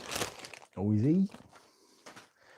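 Crinkling of a plastic bag holding a secondhand Lego set, a short burst of rustling between spoken words.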